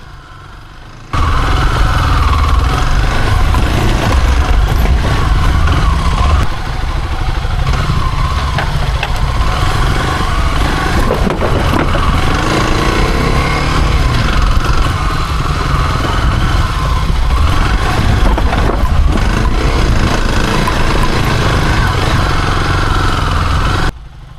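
A dual sport motorcycle rides along a trail, its engine droning loud and steady at close range for the whole stretch with a rough, vibrating mid-range tone and no voices over it.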